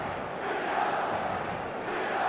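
A roaring stadium crowd in the eFootball video game, a steady, broad swell of massed cheering and chanting that rises slightly midway, heard alone without commentary.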